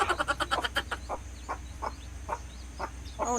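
Chickens, including a hen with chicks, clucking in short, repeated bursts, with a few sharper calls mixed in over a steady low background hum.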